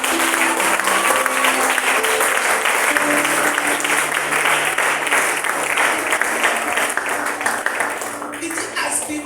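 A church congregation at a prayer service bursts into dense, sustained applause that fills the room steadily throughout, with voices and faint tones blended into the clapping.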